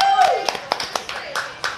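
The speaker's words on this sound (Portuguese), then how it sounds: "uma salva de palmas para Kalina Paiva" Scattered hand claps from a small audience at a bar talk event at Bardallos, with a handful of distinct claps close by and voices talking under and before them.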